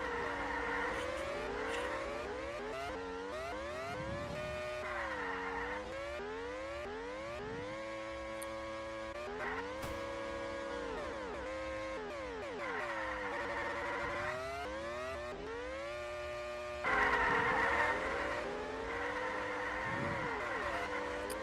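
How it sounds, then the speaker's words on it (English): Several racing cars in an F1 sim racing game at the US Grand Prix, engines droning and whining through gear changes and pitch sweeps, a dense pack of cars heard continuously up close with no talk. "Big group of cars here fighting for not last."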